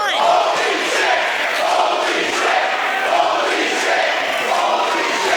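A wrestling crowd at a Limitless Wrestling tenth anniversary show roars and cheers wildly, a thick, continuous wall of shouting voices with swelling peaks throughout.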